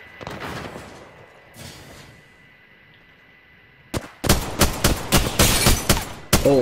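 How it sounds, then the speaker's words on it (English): Gunfire in the Apex Legends battle royale game, with scattered shots early on, then a dense run of loud, rapid bursts and sharp cracks close by near the end. "Alright, I'm getting shot at"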